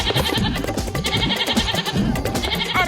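A goat bleats insistently in a Hindi cartoon, a loud, continuous and raspy cry that fills the whole moment against a busy, noisy background.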